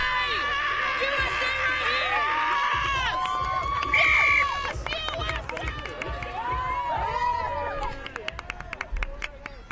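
Stadium crowd at the Atlanta Sevens women's rugby tournament cheering, whooping and shouting in a dense, continuous roar with high excited voices, swelling and then easing slightly.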